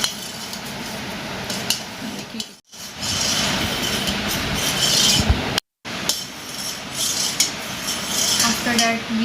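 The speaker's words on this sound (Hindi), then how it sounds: "after that we mix it with a spoon." Spoon stirring a mixture in a bowl while making homemade dhaba-style pizza, a steady scraping and clinking run close by with two brief silent gaps.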